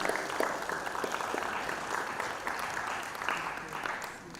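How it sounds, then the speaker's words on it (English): Audience applause at an international peace and security award ceremony, a steady wash of many hands clapping at moderate level throughout, without talk. "A round of applause, please."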